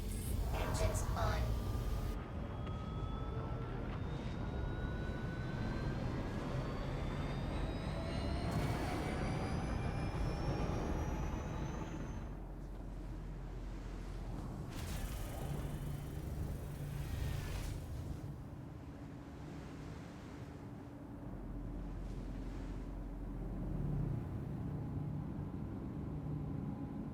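Argo RAFT cargo ship engines running in Star Citizen on MicroTech, a steady loud jet-like roar with rising whine tones that spool up, then settle into a lower sustained hum with brief surges.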